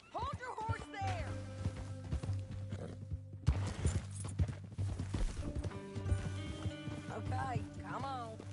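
Horse hooves clip-clop in Red Dead Redemption 2, moderately close and irregular, mixed with a whinny and background music while characters talk over them.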